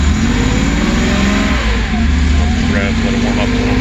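A Porsche 911 engine idles after a cold start, a loud, close, steady mechanical drone with a low throbbing hum, while a voice talks over it.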